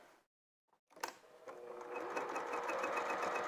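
After a brief silence, a sewing machine starts up and runs steadily, stitching quilting lines on a holiday stocking, its rapid mechanical whir close and continuous.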